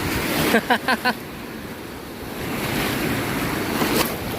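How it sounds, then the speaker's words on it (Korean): Steady roar of ocean surf at Kuta Beach in Bali, loud and close with wind buffeting, a few brief thumps early on. "멋진 파도입니다."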